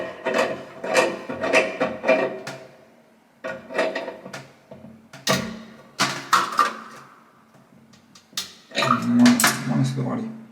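Tool working on toilet fixings during a WC replacement, bursts of metallic ratcheting and clanking in several separate runs with short pauses, close and fairly loud.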